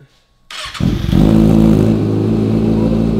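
2019 Kawasaki ZX6R with a new aftermarket exhaust fires up after a brief near-silence, then settles into a loud, close, steady deep rumble with a burbling rhythm.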